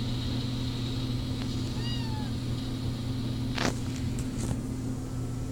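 A cat lets out a brief, faint meow that sits low beneath a loud, steady engine-like hum, followed by a few scattered clicks and knocks.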